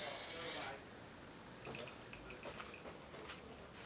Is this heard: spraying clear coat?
yes